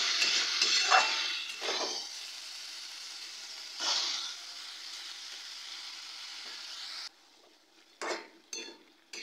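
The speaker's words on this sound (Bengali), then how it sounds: "মাংসটা দেওয়ার পরে 5 থেকে 6 মিনিট মাংসটাকে কষিয়ে নিতে হবে।" Chicken stir-fries in a pan over a low flame, giving a bright hissing sizzle that swells with each stir, alongside intermittent scraping and clinking of a spatula against the pan.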